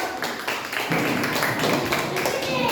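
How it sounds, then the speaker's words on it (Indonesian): A classroom group gives a short burst of applause for group 2, dense overlapping hand claps sustained for a couple of seconds, fairly close and busy. "Beri aplaus ya untuk kelompok 2 yuk"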